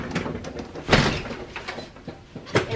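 A door is shut with a sharp bang in a household, one loud hit among the muffled shuffling and knocking of the room around it.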